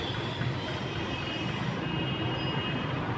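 A steady low rumble of a train rolling past in Uttar Pradesh, continuous and fairly distant, with no voices.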